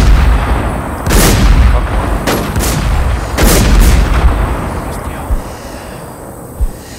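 Gunfire in the survival shooter Infestation: Survivor Stories, several loud booming shots in close succession during the first half, followed by a few fainter single reports, with players talking over it.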